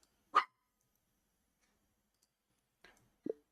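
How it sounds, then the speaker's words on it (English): A dog gives a single sharp bark, then after a long silence a fainter second bark, each brief and isolated against a quiet background. "dog."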